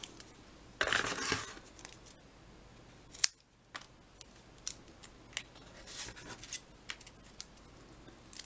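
Scissors cut strips of card stock for a handmade shamrock card, a longer rustling cut followed by a series of sharp isolated snips, close and quiet with no speech.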